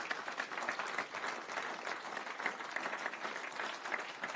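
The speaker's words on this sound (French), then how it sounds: "On peut les applaudir évidemment tous les 5." An audience at a regional election round-table applauds the five candidates, sustained dense clapping from a crowd with no break.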